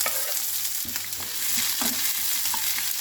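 Steady sizzling of onions frying in hot mustard oil, with occasional stirring scrapes and clinks, close and continuous, no voices.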